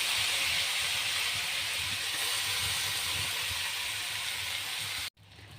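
Water spinach and potatoes fry in a pan with onion and chili, giving a loud, steady sizzling hiss that holds evenly. The sound cuts off abruptly near the end, then resumes more quietly.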